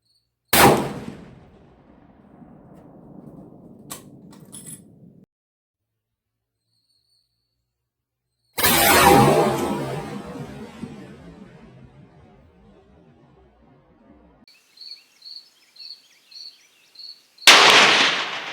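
.416 Ruger rifle shots fired at a solid steel Masterlock, two loud sharp blasts spaced apart, each ringing out and decaying over several seconds, with a run of quick metallic clicks between them and no talk.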